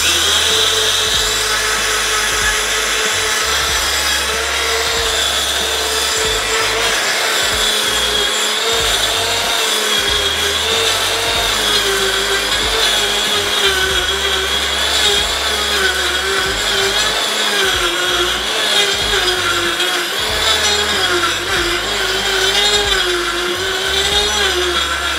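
A small electric mini mill runs steadily while grinding urad dal, a continuous loud whirring motor drone with a dense high-pitched grinding hiss, unbroken for the whole stretch with no talking.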